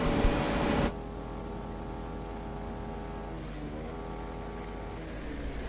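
Cars and motorbikes push through knee-deep flood water under the Cimindi flyover in Cimahi, West Java, making a loud washing rush at first and then a steady engine drone with water churning, without speech.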